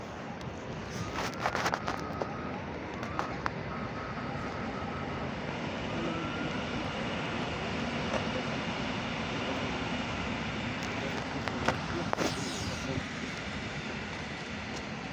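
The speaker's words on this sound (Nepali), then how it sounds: "यो त ट्रेन आइसक्यो" A train pulls into a station in Poland on a cold day, a broad steady rumble of rolling wagons with brief squeals and clanks, moderately distant and with no talk.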